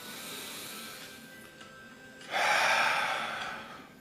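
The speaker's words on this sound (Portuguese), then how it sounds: "Faz uma respiração, ó." A single deep breath drawn in during a guided breathing exercise, a short loud breathy inhale or exhale rising after a quiet stretch, close to the microphone with no talking over it.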